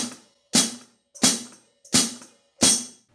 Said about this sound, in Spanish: Pisando el hi-hat con esta pandereta suena así.